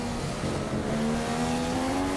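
Formula 1 car engine in the F1 2015 racing game at Singapore, a loud continuous high-pitched whine that climbs steadily in pitch as the car accelerates to overtake, with no talk over it.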